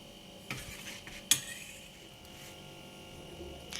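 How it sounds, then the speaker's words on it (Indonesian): A utensil stirs flour batter for Indonesian fried chicken in a bowl, giving soft scraping with a few sharper clinks, one standing out near the middle, close and fairly quiet. "Selanjutnya kita aduk sampai adonannya halus dan tidak bergerigi lagi."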